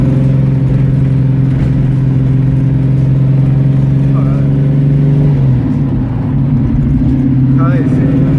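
A 1967 Shelby GT500 tribute with a V8 roars loudly and steadily while driving, holding a constant low drone that shifts pitch near the middle, with faint voices underneath.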